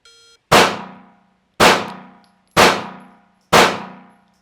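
Four sharp pistol shots from live-fire shooting at steel targets, evenly spaced about a second apart, each a loud crack with a ringing decay, preceded by a brief electronic shot-timer beep.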